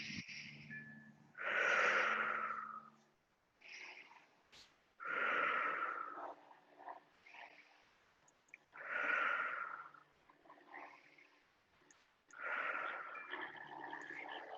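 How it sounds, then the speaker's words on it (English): Slow, deep breaths during a headache self-massage, four long loud breathy inhales and exhales in a steady rhythm, close and clear, separated by quiet pauses with faint background tone. "And deep breathe."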